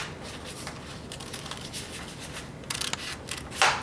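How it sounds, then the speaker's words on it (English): Several short snips of scissors cutting paper, irregularly spaced and fairly close, with a louder crisp cut at the end. "When you cut with scissors,"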